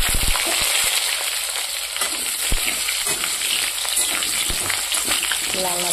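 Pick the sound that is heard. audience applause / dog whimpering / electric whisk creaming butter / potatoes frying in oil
potatoes frying in oil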